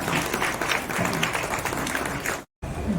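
Audience at a Women's Day honouring event applauds steadily, a dense, continuous wash of clapping from a large crowd that cuts off abruptly near the end.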